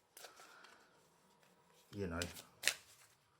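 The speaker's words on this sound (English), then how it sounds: "But we're going to shuffle them again" A deck of exploration cards for the Dungeon Saga Origins board game is shuffled by hand close by, a short riffle and a sharp snap rising over soft chatter from a person speaking.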